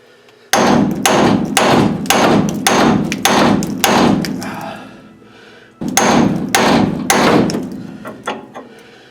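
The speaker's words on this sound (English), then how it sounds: "I'm going to keep pounding on it." Hammer blows pounding on a king pin of a 1955 Buick, loud and close, in a steady rapid series of about a dozen heavy metallic strikes, a short pause, then another burst of hits.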